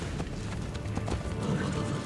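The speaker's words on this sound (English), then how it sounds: "Faster to travel by horse." Horse hooves gallop in the video game Assassin's Creed Brotherhood, a quick steady clip-clop rhythm at moderate level with no talk.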